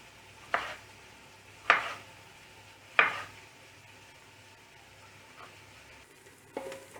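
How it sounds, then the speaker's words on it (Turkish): Peppers and onions sizzle quietly in a pan while a utensil scrapes and stirs in three distinct strokes, with a softer clink near the end. "Evet biberlerimiz, soğanlarımız iyice soteleniyor."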